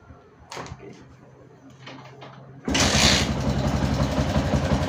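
A Yamaha Jupiter MX motorcycle engine cranks and catches after some quiet handling clicks, then settles into a loud, steady close idle.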